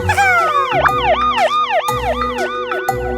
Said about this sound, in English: Wow, a police car!